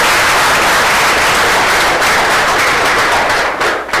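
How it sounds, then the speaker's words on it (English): A school board meeting audience applauds students with dense, sustained clapping that fills the room, loud and steady throughout with no talking over it. "one more round of applause for these wonderful students"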